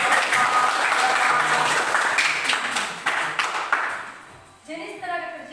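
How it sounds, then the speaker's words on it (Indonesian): A classroom group claps loudly in dense, sustained applause that tapers off near the end, when a few scattered claps remain under a voice. "Oke, tepuk tangan."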